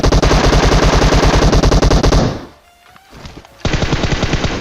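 Rapid automatic gunfire in the video game PUBG Mobile, a dense fast burst of shots, then a brief lull with faint buzzing, followed by another sustained rapid burst.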